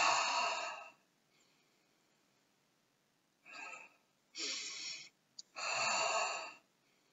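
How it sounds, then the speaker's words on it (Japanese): Deep rugby breathing exercise, slow audible inhales and exhales in separate bursts of about a second each, close and clear with pauses between breaths. "で、吸いながら、吐いて、吸っていく。"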